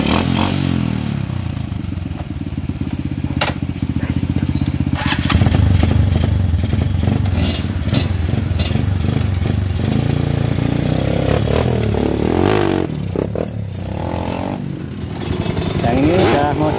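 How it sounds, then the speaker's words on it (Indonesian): A homemade two-wheel-drive mini trail motorcycle runs loud and close, its engine revving and rising and falling with rattling clatter throughout, while people talk over it. "Ingin ngetes itu yang motor 2x2 nya apa ada bedanya dengan yang kemarin"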